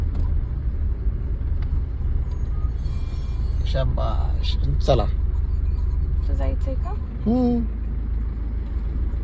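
A car crawls along in first gear with a learner at the wheel, low steady engine rumble throughout on an open ground, while people talk briefly over it.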